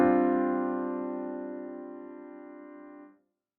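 One 5 sus4 chord played on a synth in Ableton Live rings out clearly and alone, holding steady for about three seconds before cutting off abruptly.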